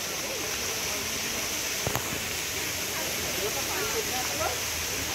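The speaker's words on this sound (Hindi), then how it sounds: "ये बहुत बढ़िया झरना है" A waterfall at Lonavala near Pune in the August monsoon rushes with a loud, steady, broadband roar that continues without a break.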